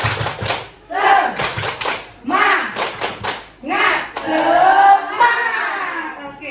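A standing group of teachers at an ice-breaking session performs a rhythmic spirit clap, loud bursts of synchronized clapping in patterned beats, mixed with chanted voices.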